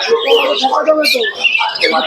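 Birds for sale at the Krishnanagar bird market, including pigeons. Chirps and squawks come close and continuous over a short span, mixed with busy market chatter.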